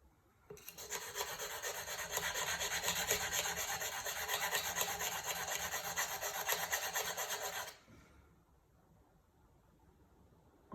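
A diamond file sharpens a tungsten carbide pottery trimming tool, producing a continuous close, steady rasping rub for about seven seconds before stopping abruptly into near silence.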